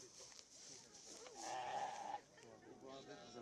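A lamb at a sheep beauty contest gives a single wavering bleat amid a noisy outdoor crowd, with people chattering around it.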